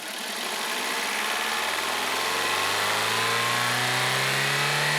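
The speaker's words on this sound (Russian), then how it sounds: "Через 3-5 секунд плавно увеличим обороты." A car engine rises smoothly from idle, its hum climbing steadily in pitch and loudness over several seconds, heard close and alone without any talk.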